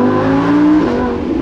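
A Lamborghini supercar engine pulls hard while driving on the road, a loud, steady drone whose pitch climbs and then dips as it shifts, close and continuous with no talk.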